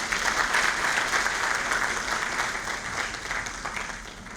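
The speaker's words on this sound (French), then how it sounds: "Sous vos applaudissements, mesdames et messieurs." Applause fills the hall at the opening ceremony of the first lawyers' congress of the UEMOA region, a steady, moderately loud wash of many hands clapping that slowly fades toward the end.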